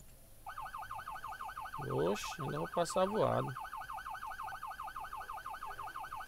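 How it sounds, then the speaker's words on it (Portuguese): A video-game vehicle siren wails in a regular rising-and-falling cycle, loud and continuous, while someone talks over it partway through. "Acabou de ligar a sirene."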